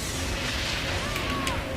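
Booming explosions in the video game Agents of Mayhem rumble over a dense, noisy background of game effects, loud and close.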